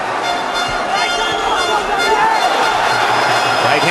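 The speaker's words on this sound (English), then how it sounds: "tremendous excitement from the Irish contingent in the crowd" Irish fans in a boxing arena crowd during a professional fight, a dense, steady roar of cheering and excited voices filling the whole span, loud and close with no break.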